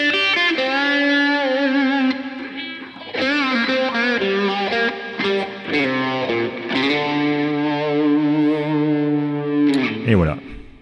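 An overdriven electric guitar plays a solo: long sustained, singing notes with bends and slides, up close and loud, ending in a quick downward slide.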